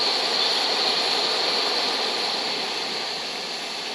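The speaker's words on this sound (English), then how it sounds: "On our little jet burner." Small camping jet burner roaring at full flame while cooking souvlaki-style chicken outdoors, a loud, steady, close hiss and rush that holds without a break and eases slightly toward the end.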